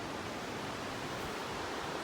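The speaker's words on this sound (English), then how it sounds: "Here's that creek with this whole area." A creek flows near a deck and jacuzzi along the Pacific Crest Trail, heard as a steady, dense rush of water with no breaks and no voices, fairly soft and even throughout.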